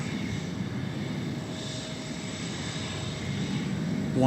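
A plane heading in to land on runway 17 Left at DFW Airport in hazy, restricted visibility, its steady engine roar sustained and fairly loud throughout, swelling slightly near the end.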